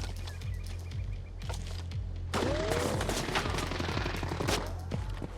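Rapid bursts of gunfire in the Arena Breakout Infinite shooter game: sharp repeated shots and short automatic volleys that grow denser partway through, with faint chirping in the background and no talking.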